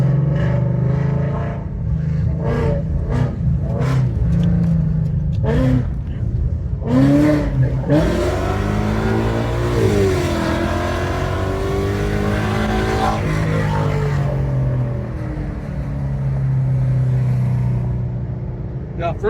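A 2017 Ford Mustang pulls hard in first gear in traffic, its engine roaring loudly and rising and falling through repeated revs and gear changes, close and dominant, with someone talking over it.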